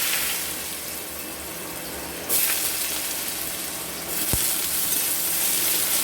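Cut potatoes drop into hot oil tempered with five-spice for a spinach and bori dish, setting off a steady sizzle that surges louder at the moment they go in, then frying on evenly with a faint stirring scrape.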